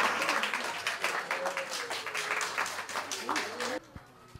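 Rhythmic hand clapping from teachers and family at a graduation party for young children in early intervention care, moderately quiet under a voice speaking, then cutting off abruptly near the end.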